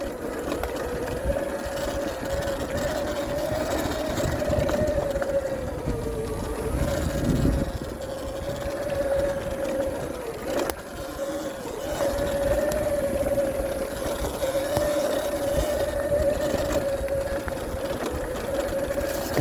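A 2022 Sur-Ron X electric dirt bike rides a single-track trail with a steady, loud whine from the motor and drivetrain over constant rumble and wind noise.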